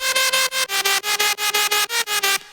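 A melodic jump-up drum and bass synth bass with no EQ applied, bright and harsh in the highs, pulsing in loud repeated chopped notes with short gaps between, heard alone without voices.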